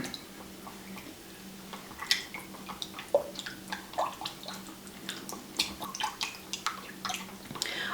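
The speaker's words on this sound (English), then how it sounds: "So now then I'm going to stir this all up." A chicken and dumpling casserole mixture being stirred, with soft wet squishing and irregular light clicks and taps in a quiet, close setting, no talking.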